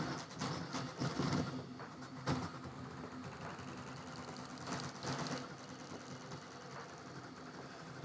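A 3D printer printing a speed benchy gives off a fast whirring, buzzing hum of rapid stepper moves, with a few louder bursts early on before settling into a steady, fairly quiet drone.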